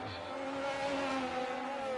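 A Ferrari race car accelerates hard down Casino Straight in Canada, a loud, steady engine note climbing in pitch over two seconds, close and continuous with no talk.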